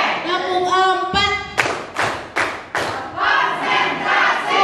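A school group performs a rhythmic clapping routine, sharp unison claps ringing out in an even pattern after a loud spoken call, the claps crowded and close.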